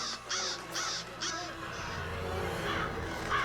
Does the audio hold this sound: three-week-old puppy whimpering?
no